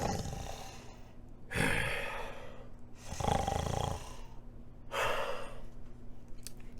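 A voice mimics a giant's thunderous snoring in a storybook reading, three long rasping snores with quiet breathing pauses between them, close and fairly loud.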